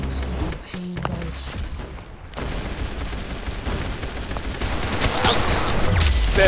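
Rapid gunfire in the video game Arsenal comes in loud, dense bursts of shots and thuds that build to a continuous volley toward the end.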